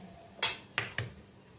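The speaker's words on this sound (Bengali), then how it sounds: "এবার এগুলোকে কড়াই থেকে তুলে নিচ্ছি" Boiled food is lifted out of a kadai with a metal utensil, making three quick, fairly faint metallic clinks and scrapes in an otherwise quiet kitchen.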